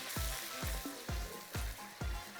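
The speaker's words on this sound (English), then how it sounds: "We will fry it with the spices for a couple of minutes." Oil sizzles steadily as onion, garlic and spices fry for a chicken curry while a spoon stirs the pan in regular scraping strokes, about five in a row, close and clear with no talking.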